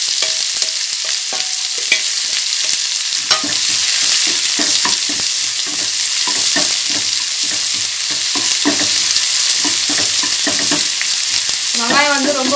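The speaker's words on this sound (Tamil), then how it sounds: "இப்போ ஒரு வெங்காயம் வந்து ரொம்ப பொடிசாக நறுக்கி வச்சுருக்கேன், அதையும் சேர்த்து வதக்கிக்கலாம்." Finely chopped onion sautés in a hot pan for a village-style homemade rava snack, a loud continuous sizzle with scraping stirring strokes throughout and a brief bubbling burst near the end.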